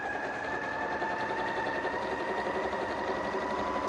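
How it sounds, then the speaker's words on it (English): A sewing machine stitching straight across a fabric market tote bag, a steady close whirring hum that runs unbroken the whole time with no talking. "now I'm going to stitch all the way across that"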